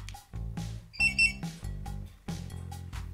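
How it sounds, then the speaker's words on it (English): A car alarm on a Compustar remote start system sounds a fairly quiet, repeating cycle of electronic beeping and chirping tones in short bursts, heard alone. "With any alarm, it is default set for the unlock button to silence the alarm"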